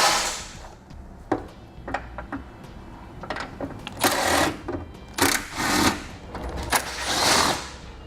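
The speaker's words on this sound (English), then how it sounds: "Now we'll remove the 3 10mm nuts that hold our washer bottle in place." Ratchet wrench clicking and metallic tool sounds while removing the three 10mm nuts that hold the washer fluid bottle on a 2017 Chevrolet, with irregular bursts of close, moderately loud clicking and short rattles.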